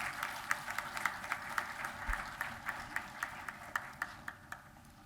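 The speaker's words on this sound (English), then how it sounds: "Let's welcome him with a big round of applause." An audience at an MoU signing ceremony at IIT Gandhinagar applauds steadily, a sustained patter of many hands heard from a distance with a few sharper claps standing out.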